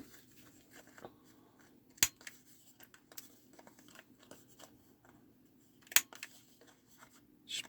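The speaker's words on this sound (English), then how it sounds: "Cut that little strip off and save it." Scissors cut a small paper strip for a junk journal, giving a few crisp, isolated snips spaced seconds apart against a quiet room.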